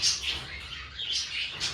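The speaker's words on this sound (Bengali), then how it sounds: "এটা আমার ককাটেল পেয়ার, দেখতে থাকুন।" A pair of cockatiels giving a few short, bright chirps at close range, spaced irregularly over a quiet background.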